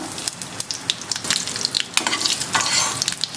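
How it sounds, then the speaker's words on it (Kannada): Mustard seeds, a single chili and asafoetida sizzle and crackle in hot oil for an Andhra-style dish, a dense, steady frying hiss with scattered sharp pops close by, no voices. "ಎಣ್ಣೆ ಸ್ವಲ್ಪ ಕಾಯ್ದ ಮೇಲೆ ಸ್ವಲ್ಪ ಸಾಸಿವೆ ಹಾಕ್ಕೊಳ್ಳೋಣ"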